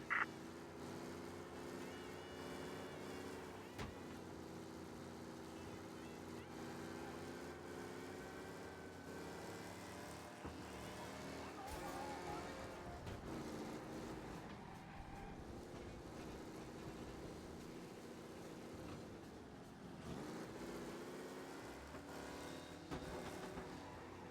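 Car engine droning steadily at high speed in Mafia Definitive Edition, a continuous loud drone with shifting tone and no pauses, heard alone without talk.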